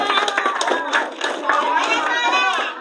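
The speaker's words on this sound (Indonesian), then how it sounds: "Boleh tepuk tangan untuk anak soleh semuanya" Children at an Islamic holiday school session clap their hands amid lively overlapping children's voices, the sharp claps close and scattered under the chatter.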